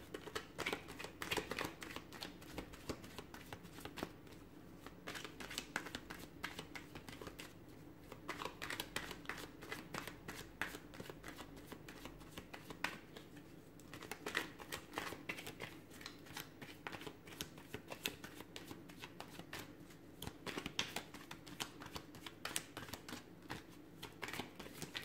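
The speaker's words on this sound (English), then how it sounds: "Give the cards a shuffle." Tarot cards shuffled by hand in a quiet room, giving a steady run of soft papery riffles and flicks close to the listener, with short pauses between bursts and no talking.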